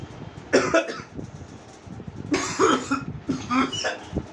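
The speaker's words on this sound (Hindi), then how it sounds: "यार खांसी आ रही है।" A person coughs close by in several harsh bursts, one early and a cluster of two or three later, with no talking.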